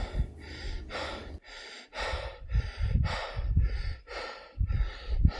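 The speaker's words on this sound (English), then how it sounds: "All I remember is there was a lot of breathing going on." Heavy, labored breathing of a cyclist climbing a steep mountain bike route: close, loud gasping inhales and exhales in a ragged rhythm of about eight breaths, alone without speech.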